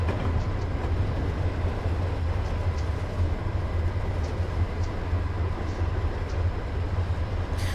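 Amtrak train hauled by F45 and SD40-2 locomotives in Train Simulator 2022 set in Arizona, a continuous heavy low rumble of rolling wagons with faint rhythmic wheel clicks throughout, no voices.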